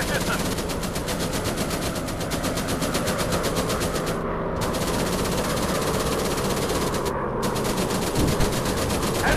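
In the War Planes WWI dogfight, a fighter's machine guns fire in a loud, continuous rapid rattle over an engine drone, broken by two short pauses.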